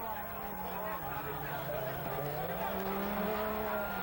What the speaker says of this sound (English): Just listen to the V8 engine